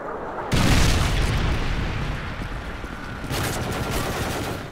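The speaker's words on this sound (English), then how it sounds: "Predator missile inbound." Predator missile explosion in Modern Warfare 3 multiplayer headquarters match on the Vault map: a sudden loud boom that rolls into a dense, sustained rumble with a second surge near the end.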